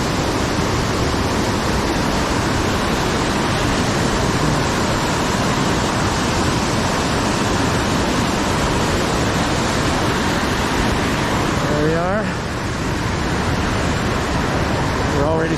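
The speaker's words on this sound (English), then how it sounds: "first set of waterfalls going down over the Big Pine Creek" Waterfalls pour down over Big Pine Creek in the mountains, a loud, steady, close roar of rushing water that fills the whole stretch without a break.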